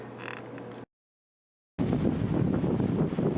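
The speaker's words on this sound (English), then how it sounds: "And it's been getting real windy for the last while." Strong wind at night gusting to around 68 km/h, blowing through trees and buffeting the microphone in a loud rushing roar, cut by a sudden silent gap before the roar returns.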